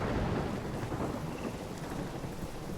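A thunderstorm with rain in the video game Life Is Strange gives a dense, continuous roar of heavy rainfall. Low thunder rumbles underneath, close and loud throughout.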